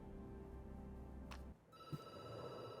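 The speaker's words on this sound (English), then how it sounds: "The phone rings and you jump." A telephone rings in the Night Call video game, faint and brief: one trilling electronic ring that stops, then a steady tonal hum underneath, with no voices.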